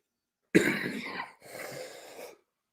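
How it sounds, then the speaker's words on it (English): One harsh cough followed by a short rough throat-clearing burst, close and loud, then silence. "I'm about to cough up a lung"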